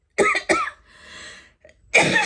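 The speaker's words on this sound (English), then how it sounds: "Coughing fit coming on." Two sharp, close coughs in quick succession, then a pause with faint breathy noise, followed by another harsh cough burst.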